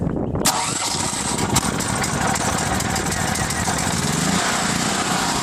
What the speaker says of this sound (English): we'll go ahead and give it a start